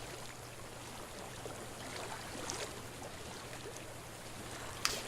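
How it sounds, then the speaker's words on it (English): Flowing water in Hellblade: Senua's Sacrifice, a low, even stream-like rush that runs steadily throughout, with one brief click near the end and no voices. "I hear water."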